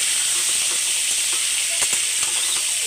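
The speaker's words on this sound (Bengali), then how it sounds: "তো এবার নেড়ে করে ভালো করে মিলিয়ে নেব।" Masala chana sizzles steadily in a hot frying pan while being stirred, with a continuous bright hiss and a few soft scraping clicks of the spoon.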